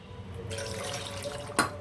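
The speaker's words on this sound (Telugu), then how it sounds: "ఇప్పుడు కావాల్సినంత వాటర్ దీంట్లోకి వేసేసుకోవాలి" Running water pours steadily into a cooking pot, with a louder splash near the end; no one speaks.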